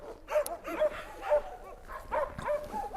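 A large, thick-coated hunting laika at a breeding kennel barks in a run of short, sharp yips and barks, moderately close, with a faint voice murmuring in the background.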